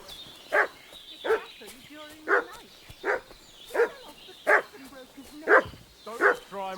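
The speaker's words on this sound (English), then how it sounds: "What's that dog making such a fuss about?" A dog in the video game Kingdom Come: Deliverance II barks in a steady series of about nine woofs, evenly spaced and moderately near, with a faint high tone behind them.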